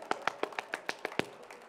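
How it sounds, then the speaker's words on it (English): A small audience at a celebration-of-life memorial gives light, rhythmic clapping for a shy woman named Christy, with about ten quiet, evenly spaced claps. "Do we clap for Christy?"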